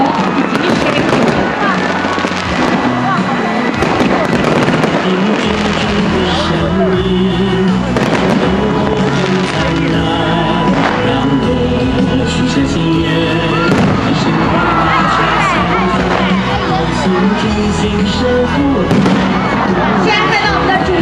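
Fireworks at a lantern festival boom and crackle continuously alongside music and a crowd, loud and near, with dense bursts and pops throughout and a voice talking over them.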